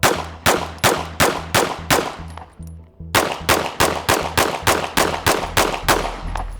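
Handgun fired in rapid succession, about sixteen loud close sharp shots in a quick steady rhythm with a brief pause partway through, each followed by a short ringing decay.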